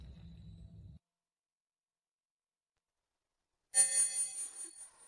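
A telephone bell rings once after a low hum and a stretch of silence, a bright ringing burst that fades over about a second and a half.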